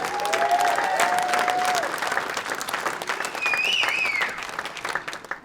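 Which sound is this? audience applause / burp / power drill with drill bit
audience applause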